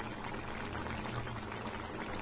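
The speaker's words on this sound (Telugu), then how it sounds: "మునక్కాయ మామిడికాయ కూడా ఉడుకుతుంది చూడండి" A pot of drumstick and raw mango curry simmers with a soft, continuous low bubbling, quiet and close, with no voices over it.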